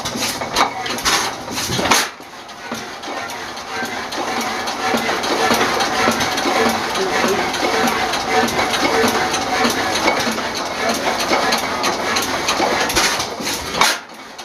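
A 22 hp Fairbanks-Morse antique engine runs at an antique engine and threshers show, giving a loud, steady, close mechanical churn with a metallic clatter and sharp bursts near the start and end.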